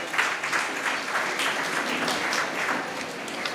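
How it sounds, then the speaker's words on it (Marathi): An audience at a community society's prize distribution ceremony in Aurangabad claps steadily, producing a continuous, fairly loud burst of applause throughout with no talk over it. "सगळ्यांनी टाळ्या वाजवावे."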